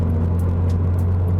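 A modified 2022 Subaru BRZ with a MagnaFlow aftermarket exhaust idles with a loud, steady low rumble and a constant droning hum, close and unbroken for a short moment.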